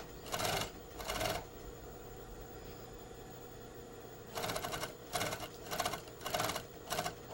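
A sewing machine stitches a garment sleeve placket without basting, heard as several short bursts of running stitches, two near the start and a faster run of four or five toward the end, with quiet pauses between them.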